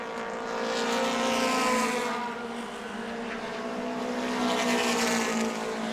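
Race cars lapping the oval at New Smyrna during a Mod Mini 30 event, a steady loud engine drone that swells and fades as cars pass, with no talk over it.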